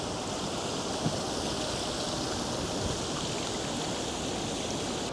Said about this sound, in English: And the water, beautiful.